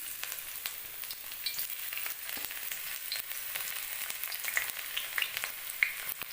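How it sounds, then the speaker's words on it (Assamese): Onions frying in hot oil for samosa stuffing, a steady close sizzle with faint crackles and a few sharper pops, no talking. "এয়া মোৰ তেলখিনি গৰম হৈ গৈছে এতিয়া ইয়াত মই পিঁয়াজ দিম"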